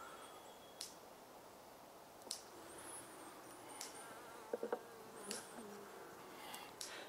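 Honey bees buzz around hive frames during hive setup, a soft steady drone with individual bees passing close now and then, and no talk.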